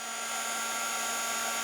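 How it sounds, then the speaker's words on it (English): Heat gun or hair dryer blowing a steady, even airflow hiss close by, drying a patch of stain on wood, with no breaks or talk. "if I take a heat gun or a hairdryer and I add a bit of heat to it, it will set just like that"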